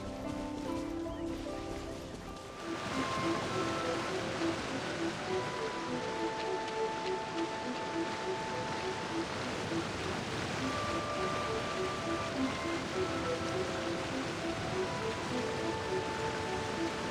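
Steady rushing water from a waterfall in Genshin Impact, where a man meditates beneath the falls; a continuous broadband roar with soft music tones layered over it, rising sharply after a quieter opening.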